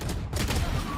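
Pistol gunfire from a Valorant esports match on the Fracture map comes as a rapid burst of overlapping sharp shots, with a faint game tone underneath.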